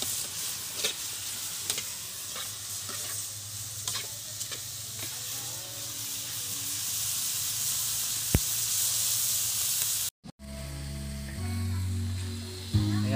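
Adobo ingredients for adobo sa gata sautéing in a pan, with a steady close sizzle, occasional scraping stirs and utensil clinks throughout, then a brief cut into a louder, busier kitchen passage near the end.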